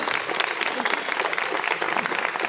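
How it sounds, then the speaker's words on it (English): At an Air Force ROTC flight academy graduation, a crowd claps loudly and continuously for ten new private pilots, a dense wash of hands with no gaps. "big round of applause for our 10 brand new private pilots"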